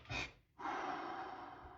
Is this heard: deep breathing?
yes